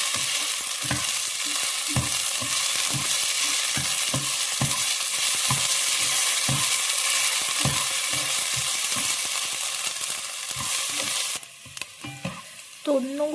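Garlic and onion sauté in a pan toward golden brown, a continuous loud sizzle with regular rhythmic scrapes of a stirring spoon, close up, the frying dropping away near the end; no talking.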